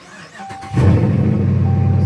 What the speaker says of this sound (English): go ahead and give it a good